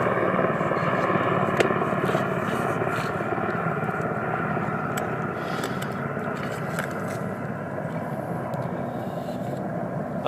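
A steady, droning rumble of helicopters overhead fills the air continuously, with faint scattered clicks and scrapes close by.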